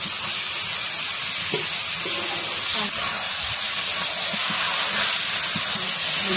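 Boiled taro pieces hit a village pan of fried-down spices, giving a loud, continuous steamy hiss and sizzle that runs steadily throughout, with faint low clatter beneath.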